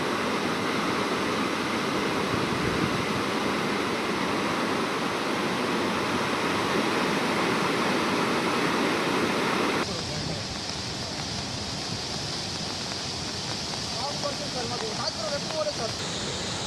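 A waterfall swollen after heavy rain, giving a loud, unbroken rushing roar close by that shifts abruptly to a slightly thinner, less dense wash of water partway through.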